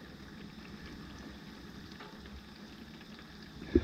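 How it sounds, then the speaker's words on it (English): Crayon wax simmering in a double boiler over a low flame, a soft, steady bubbling fizz at low level, with a small clunk at the end. "I got a good boil going now"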